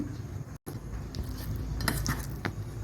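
Chopped onion and green chillies get mixed in a bowl with a spoon, producing soft scraping, clinking and patting sounds close up, with a brief dropout early on.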